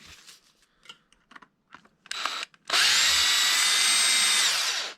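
A power driver spins out small screws from a Traxxas X-Maxx 8S hub, with a few light clicks and taps before a loud, close, steady whir runs for about two seconds.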